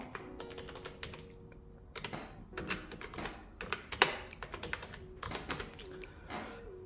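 Typing on a computer keyboard in a Safari search bar on a Mac: bursts of quick, close key clicks with short pauses between words, moderately quiet and without speech.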